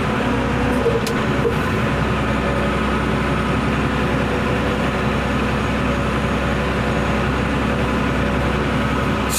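A tractor pulling away in New Zealand, its engine a dense, loud, steady rumble and rattle close by that continues unbroken throughout, with a brief clank near the start.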